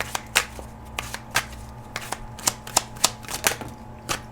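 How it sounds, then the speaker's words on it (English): Tarot cards riffled and drawn from a deck: a string of crisp, close flicks and snaps in an uneven rhythm, loud against a quiet background. "So we'll grab a couple of cards from here."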